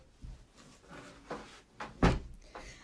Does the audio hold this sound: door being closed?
yes